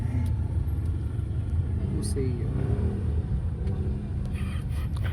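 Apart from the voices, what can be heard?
road traffic, car engines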